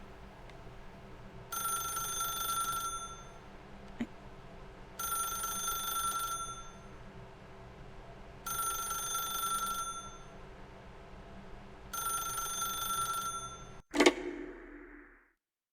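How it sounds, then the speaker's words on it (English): Telephone ringing in The Stanley Parable video game, four evenly spaced bright bell rings separated by pauses, followed by a sharp clattering crash near the end, clear and close in a quiet room. "Oh, it's a phone."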